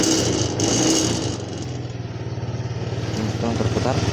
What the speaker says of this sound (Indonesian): Jadi ini motornya bisa hidup.